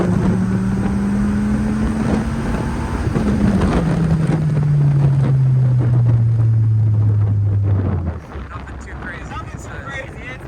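Loud, close 1995 Dodge Viper engine pulling hard in second gear, its deep roar climbing steadily in pitch for several seconds before cutting off abruptly as the throttle lifts, leaving wind and road rumble.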